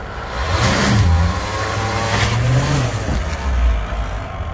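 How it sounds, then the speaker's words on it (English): A car engine revs hard and holds high, with a front tire slipping under limited-slip traction at a garage car show. The sound is loud, close and continuous, with pitch rising and falling across repeated surges and no talk. "You're getting limited slip off the front tire"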